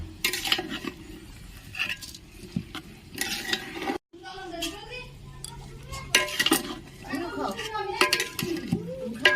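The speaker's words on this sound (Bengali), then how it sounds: "ভালো করে নেড়ে নেবো।" A spoon stirs khichuri in a pot with scraping, clinking strokes against the metal, close and fairly loud, mixed with low sizzling and a few short bursts of background voices.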